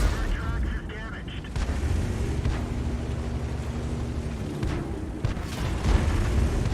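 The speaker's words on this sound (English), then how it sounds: "There's an 88 in the centre actually firing at our own guys." Tank cannon and an 88 gun firing in a video game battle, heavy booming blasts and rumbling low-end gunfire throughout, with a sharp loud shot near the end.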